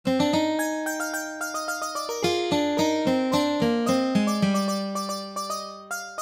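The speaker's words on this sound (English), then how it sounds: "A simple example of polyphony and counterpoint may sound something like this." Two interweaving melodic lines on a plucked keyboard instrument move in steady, even notes, clear and alone.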